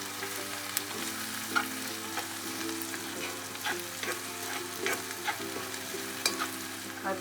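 Turmeric powder being sautéed in a pan for chicken roast, a continuous sizzle broken by repeated scraping stirs and light clicks of a spatula against the pan, no speech.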